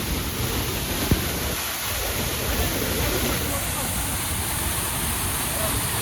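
A waterfall on the trek up Raigad Fort roars as a loud, unbroken rush of water, close and constant, with one brief click early on.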